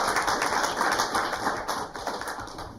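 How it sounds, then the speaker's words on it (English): A round of applause from attendees at a town council meeting, a dense, steady patter of clapping at moderate distance that fades slightly toward the end. "So first off, Michael. Round of applause."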